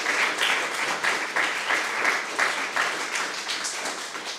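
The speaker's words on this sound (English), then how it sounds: "How about a round of applause to all those indie cinemas?" An audience at a film festival programme announcement applauds indie cinemas, a steady wash of many hands clapping with slight rhythmic surges, fairly close and continuous with no talking.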